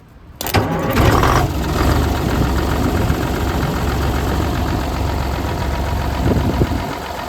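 A Diamond Reo truck's diesel engine fires up abruptly after a short quiet moment, then settles into a loud, steady, rumbling idle with an even mechanical chatter close by.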